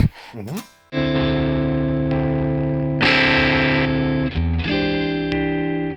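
Sustained distorted electric guitar chords ring out from a Fender American Ultra II, with a brief pick scrape first and a louder, brighter boosted surge in the middle before settling back.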